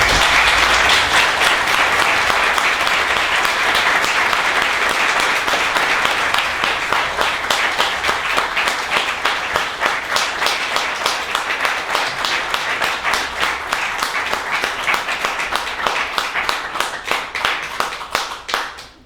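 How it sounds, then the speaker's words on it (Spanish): A lecture audience gives a long round of applause for a professor at the end of a history course. The clapping is sustained and even, with individual claps becoming more distinct as it slowly thins toward the end. "un largo aplauso para el profesor Garroz"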